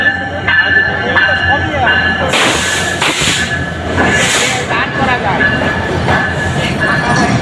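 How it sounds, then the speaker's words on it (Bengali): A passenger train rolls into a station during a rail journey from Kushtia, its steady rumble and rattling wagons filling the scene, with brighter hissing and screeching bursts around the middle while people talk over it. "সেই ট্রেনটা অলরেডি স্টেশনে চলে আসছে"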